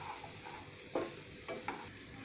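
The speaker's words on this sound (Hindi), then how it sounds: "फिफ्टी परसेंट तक पका लेंगे मटर को और फ्लावर को।" Peas and cauliflower fry in a pan with a soft, steady sizzle, punctuated by three short stirring scrapes, quiet and near, with no one speaking.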